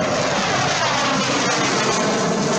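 FA-50 fighter jets fly overhead during a military exercise retaking a Philippine base, giving a loud, steady broadband engine roar that holds without break, with no voices.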